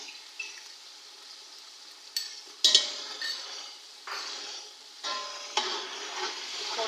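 Ginger garlic paste frying with onions in a pot for matar pulao, stirred with a utensil: soft sizzle throughout with several louder scraping bursts from stirring, close and without talk.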